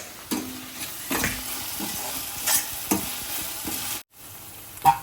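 Punugulu fritters simmering in tamarind broth, a constant sizzle with repeated scraping strokes of a spoon against the pan, then a short silent gap before a final clack.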